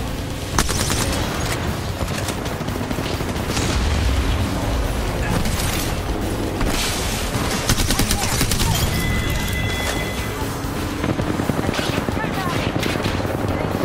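Heavy gunfire in an Apex Legends match, rapid bursts and fusillades with explosion-like booms, loud and continuous, while players talk over the action.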